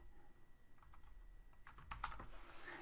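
Quiet clicking of a computer keyboard as a name is typed into a search field, a short scattered run of keystrokes ending in a quick cluster of taps, close and soft with no speech.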